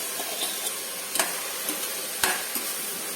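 Broken wheat sizzles in a pan with vegetables, under a steady frying hiss, while a spoon stirs it in a few sharp scraping strokes close by.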